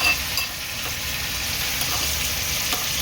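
Ginger-garlic and green chilli paste frying in a hot pan gives a steady, close, even sizzle and hiss with faint stirring ticks, and no voices.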